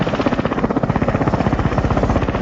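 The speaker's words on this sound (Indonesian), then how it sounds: "Joker dan Raptorman pun berangkat menggunakan helikopter" Helicopter in flight, a steady, loud, close rotor chop with fast regular beating pulses that carries on without a break, with no other sounds.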